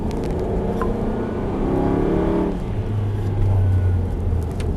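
An Aston Martin Vantage V8 accelerates at full throttle, its engine note rising steadily as a loud close droning rumble, dipping briefly and then climbing again in pitch.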